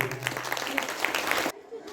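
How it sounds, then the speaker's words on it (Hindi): An audience at a school Hindi poetry recitation event claps for the winners in a dense, lively burst of applause that cuts off abruptly after about a second and a half, with voices mixed underneath. "हर एक को हम ताली बजाकर सबको सम्मान करें"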